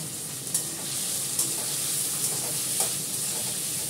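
Food sizzles steadily in a pan with a continuous hiss, while occasional light scrapes of a spatula mark the stirring, heard close up without any talk.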